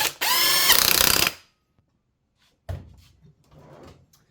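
A socket ratchet clicks in a fast, loud burst while driving the flywheel bolt on a Suzuki SV650, followed by quieter metallic handling and faint clatter.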